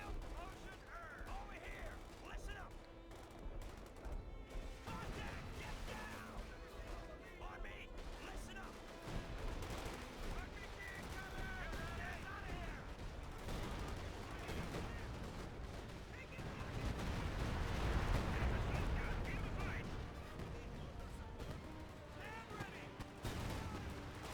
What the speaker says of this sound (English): there's Talon's Katusha rockets